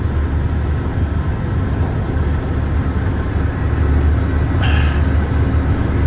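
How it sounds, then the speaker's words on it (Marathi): Vehicles idling and creeping through a city traffic jam in Thane, a continuous low engine rumble with road noise heard from inside a car, with a brief higher burst near the end. "फुल ट्रॅफिक जाम आहे"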